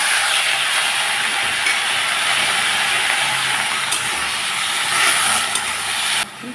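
Dhekishak greens sizzling as they hit hot mustard oil with chopped onion and green chilli, a loud steady frying hiss that runs unbroken and alone.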